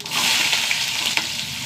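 Onion and green chili hit hot coconut oil with mustard seeds in a brief, steady sizzle with faint crackles, heard up close.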